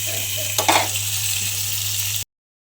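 Fish frying in a pan with a steady, close sizzle and a brief burst of louder crackle partway through, cutting off abruptly.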